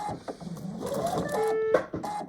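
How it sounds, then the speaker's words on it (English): A quilting sewing machine gives a short electronic warning beep for low bobbin thread, a brief steady tone rising over faint machine whirring and handling noise. "It's just telling me I'm running out of bobbin thread. That was that warning sound."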